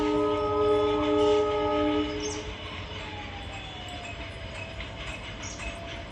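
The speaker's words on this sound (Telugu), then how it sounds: "ట్రైన్ కాదు, గూడ్స్ అనుకుంటా." A goods train rolls by near a railway station close to a temple in Hyderabad. A loud, sustained multi-tone horn blast sounds for about two seconds over a continuous rumble of wagons and wheels that carries on after the horn stops.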